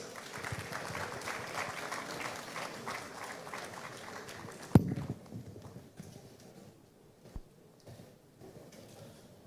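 Applause at a Ghanaian government launch event for a national AI strategy, welcoming a dignitary: scattered, clattering clapping from the crowd that thins out midway, leaving a couple of isolated knocks in a quieter hall.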